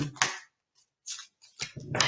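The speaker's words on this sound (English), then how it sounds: "I'm such an aggressive shuffler. I'm like really attacking it." Playing cards being shuffled aggressively, heard as a few brisk, crisp riffling bursts separated by short silences, fairly close.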